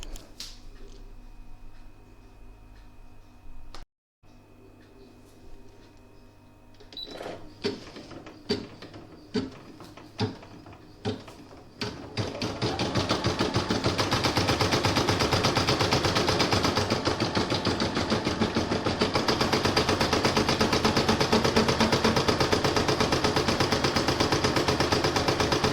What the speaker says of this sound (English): I'm going to pop it into my machine, and it's going to zigzag all around the raw edges.